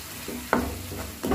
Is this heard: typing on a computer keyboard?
no